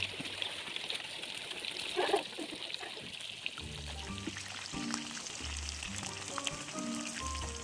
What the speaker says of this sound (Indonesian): Kita goreng ayamnya sampai habis ya teman-teman.